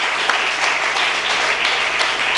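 Loud, dense applause fills a church gathering, a continuous roar of many hands clapping at steady strength with no voices over it.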